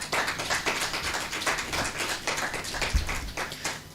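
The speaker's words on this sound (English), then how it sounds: "Let us give them a round of applause." A room full of presenters' audience breaks into a round of applause, dense steady hand clapping carrying on throughout, fairly close and unaccompanied by speech.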